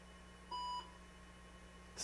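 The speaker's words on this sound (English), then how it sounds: "Single beep." A single short electronic POST beep from an IBM PS/2 Model 60 computer sounds once over a quiet background hum, clear but not loud.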